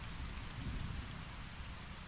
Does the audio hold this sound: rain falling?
yes